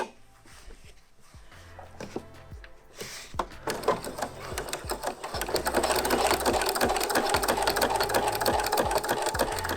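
A sewing machine stitching fabric binding onto a glasses case starts with a few slow mechanical clunks, then speeds into a steady, close, rapid whirring hum that holds to the end.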